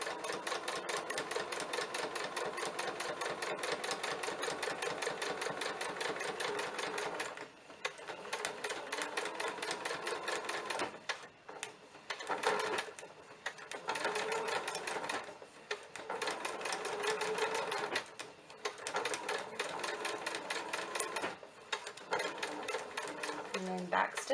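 A sewing machine stitches a centered zipper, a close rapid mechanical chatter in bursts separated by short pauses, with a few quieter handling sounds between runs.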